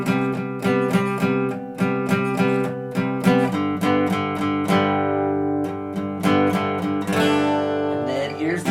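Electric guitar strumming rhythmic chords from a song, a driving pattern of repeated strokes that shifts chords midway and ends on a ringing strum, close and loud without talking.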